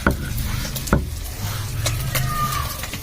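Fish fries in mustard oil with a bubbling sizzle, broken by a few sharp knocks and scrapes of a utensil against the pan, and no talking.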